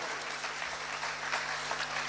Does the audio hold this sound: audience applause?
yes